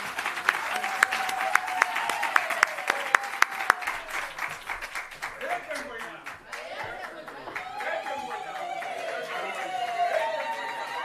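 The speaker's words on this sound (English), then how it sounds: "let's give them another big round of applause." Audience applause at a rural investment summit in South Africa, a steady round of clapping with crowd chatter and murmuring running through it, fading slightly midway before swelling again.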